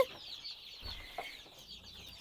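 Broiler chicks and naked-neck chicks cluck softly under a steady background hiss, with a few short chirps and low murmurs close by.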